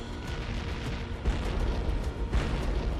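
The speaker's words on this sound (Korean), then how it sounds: "황제군과 스웨덴군의 대포가 동시에 불을 뿜었습니다." Cannons of imperial and Swedish armies firing together in a battle: heavy, continuous rumbling barrage with two louder booms standing out, dense and loud throughout with no talk.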